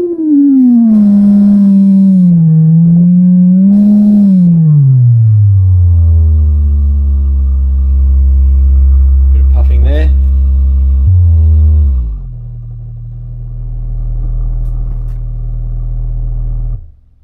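A test tone through small Logitech LS21 computer speakers sweeping down to a 27 Hz bass bottom end, a loud droning hum sliding lower and settling into a deep rumble, with brief sounds from the room over it.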